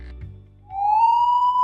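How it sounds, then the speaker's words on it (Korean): An emergency evacuation siren on a construction site starts up with a low rumble, then rises into a loud, sustained electronic wail that holds steady. "근로자에게 사이렌을 울려"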